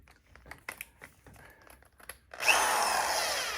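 A regular power drill spins a universal bolt driver bit. Quiet handling clicks and rustles come first, then a loud, steady whirring drill run holds to the end.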